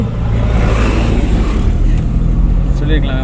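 A car engine rises in revs after a shift into second gear during a driving lesson, a steady loud drone running the whole time with people talking over it.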